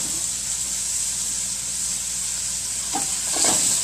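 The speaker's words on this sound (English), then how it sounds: "You can hear the sizzle." Mahi mahi fillets sizzle in a hot pan over medium-high heat, giving a loud, steady, close hiss throughout with a few brief spatters near the end.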